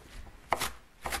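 A knife rough-chops vegetables on a cutting board for black-eyed peas, three quiet, close chops spaced about half a second apart with no talk.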